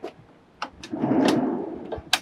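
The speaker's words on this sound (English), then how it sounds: "And then we have these really big pull-out doors." A large pull-out storage drawer in a Nissan NV2500 camper van conversion slides open with a rumbling glide, framed by a few close clicks and knocks.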